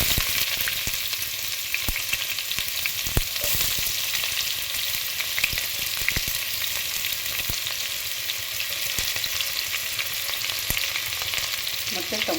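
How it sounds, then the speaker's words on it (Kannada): Cloves, star anise and a bay leaf frying in hot oil for pulao produce a constant, dense sizzle with scattered sharp crackles and pops throughout, and no voices. "ಆಯಿಲ್ ಚೆನ್ನಾಗಿ ಕಾದ ನಂತರ ಇದಕ್ಕೆ ನಾನು ಲವಂಗ ಮತ್ತು ಚಕ್ರ ಹಾಕ್ತಾ ಹಾಕ್ತಾಯಿದ್ದೀನಿ"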